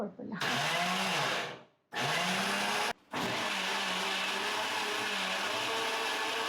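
A kitchen mixer grinder grinds coconut in loud bursts, with two brief pauses between runs. A voice talks faintly beneath the steady whirring motor.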